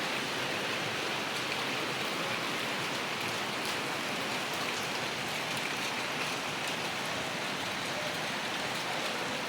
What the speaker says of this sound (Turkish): Az önce yağdıydı durdu. Şimdi bir daha yağıyor.